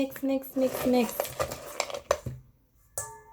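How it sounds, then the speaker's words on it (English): Oreo cheese ball mixture being mixed in a bowl, with a few scraping and clinking utensil strokes, close, over a voice speaking at the start. "Now we have to mix."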